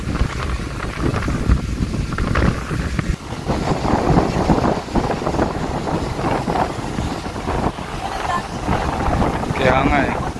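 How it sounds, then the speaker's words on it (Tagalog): Strong wind buffets the microphone on a North Luzon road trip, a steady loud roar across the whole stretch with people talking over it. "ang lakas ng hangin"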